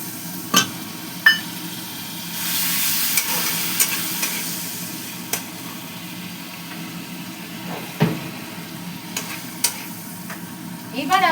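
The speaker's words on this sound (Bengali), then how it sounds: "এটাকে আমি ভালো করে কষিয়ে নিই।" A spice mixture sautéing in a pan, with a low continuous sizzle broken by occasional sharp scrapes and knocks of a stirring utensil, close and fairly quiet.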